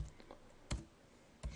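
Quiet keyboard typing on a computer: a few soft keystroke clicks followed by two sharper key presses spaced about three-quarters of a second apart, close and faint with no other sound.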